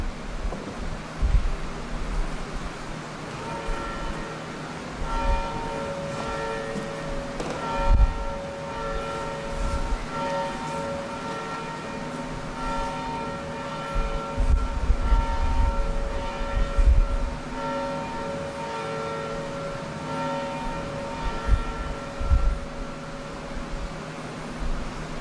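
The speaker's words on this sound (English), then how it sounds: "as the bell rings" A church bell ringing for a worship service, its tones sounding repeatedly and steadily with lingering resonance, heard moderately distant alongside low rumbling noise, with no talking.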